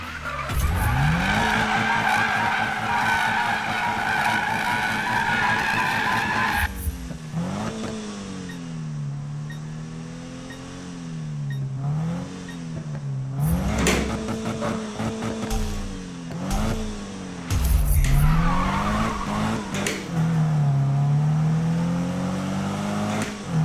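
Tires squeal and skid in a Need for Speed racing game, a Subaru BRZ's engine revving hard with wavering pitch as its tires are warmed up, loud and continuous with repeated screeching bursts and no talk.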